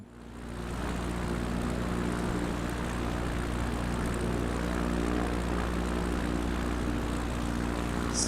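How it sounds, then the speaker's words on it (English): Propeller aircraft engine in a flight simulator game set in the Idaho backcountry, a steady droning hum that swells in over the first second and then holds level and continuous with no voices. "Sound, aircraft engines. I mean, it's pretty low."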